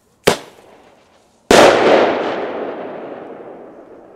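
Two New Year's Eve firecrackers go off in an open field: a short sharp crack, then after about a second a louder blast whose echo rolls away and fades slowly.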